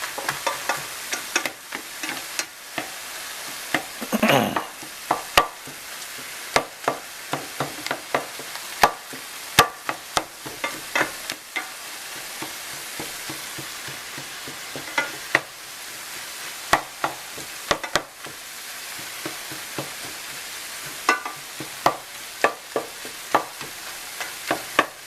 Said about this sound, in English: So what I do is I come back and pulverize it with the end of the spatula. Just chop it into small pieces here.